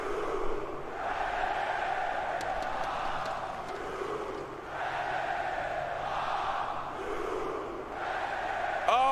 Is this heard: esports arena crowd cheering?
yes